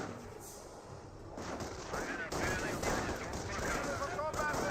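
Gunfire from a squad garrisoned in a building firing out of its windows in Company of Heroes, rattling bursts in a busy battle soundscape, heard under someone talking.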